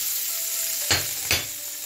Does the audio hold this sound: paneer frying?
yes